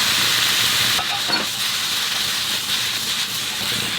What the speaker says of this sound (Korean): 이렇게 어묵이 부드럽게 볶아질 때